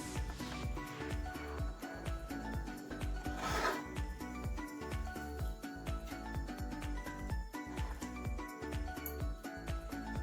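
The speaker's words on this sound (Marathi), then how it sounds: "गरम आहे तोवरच पसरून घ्यायची, ही थंड झाली की आपल्याला पसरवता येणार नाही।" Hot wood apple chikki mixture is spread across a plate with repeated rasping, scraping strokes that keep a fairly even rhythm throughout, close and fairly quiet.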